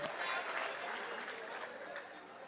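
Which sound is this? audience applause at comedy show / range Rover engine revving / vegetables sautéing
audience applause at comedy show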